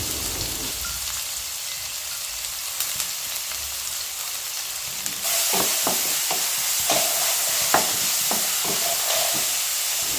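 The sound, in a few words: onion sautéing in oil for chicken biryani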